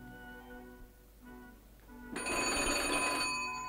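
A telephone bell ringing loudly in a continuous burst, close and bright, rising out of a quiet room.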